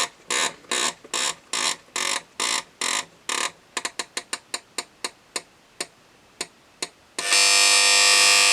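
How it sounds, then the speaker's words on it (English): A refurbished brown Philips mechanical flip alarm clock ticks and clicks in a steady, slowing rhythm as it is wound, then its bell bursts into a loud, continuous ringing close by. "I'll just quickly sound the alarm"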